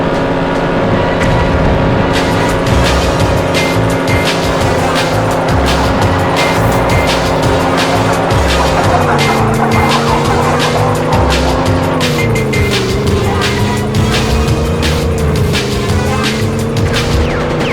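Racing cars from the video game 007 Racing roar with a steady, loud engine drone and shift in pitch, while tires squeal and skid repeatedly throughout, with no talking.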